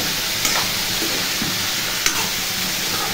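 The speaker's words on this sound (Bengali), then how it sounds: "নুন আর হলুদ দিয়ে দিলাম, নাড়াচাড়া করবো।" Vegetables with salt and turmeric are stirred in a pan at home, a constant frying hiss broken by a couple of sharp spoon scrapes against the pan, no talking.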